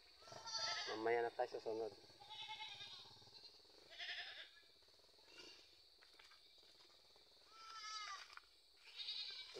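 A goat bleats loudly and repeatedly at a birthday gathering, with wavering cries in several bursts and people talking close by between them.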